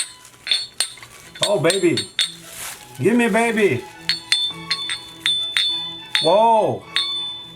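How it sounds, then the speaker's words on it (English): Bright metallic clinks ring out in short bursts as 1-kilo silver bars knock together, while a voice exclaims loudly over them. "Oh, this is the sound of silver, right?"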